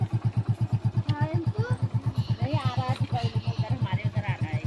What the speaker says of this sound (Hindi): बच्चे जाने लग गए बाइक से